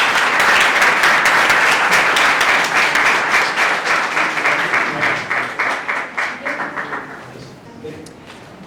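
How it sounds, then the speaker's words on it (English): Audience applause for a retired ambassador at an event in Karachi: steady, dense clapping that holds loud for several seconds, then thins into scattered claps and fades out. "please give him a round of applause"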